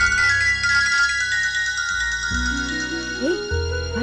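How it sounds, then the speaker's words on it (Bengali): Phone ringtone for an incoming call playing a repeating electronic melody of sustained tones, fairly loud and clear, with shifting pitch steps over a few seconds and no talking. "এই ভাস্করের ফোন এসছে, দাঁড়া আমি কথা বলে আসি।"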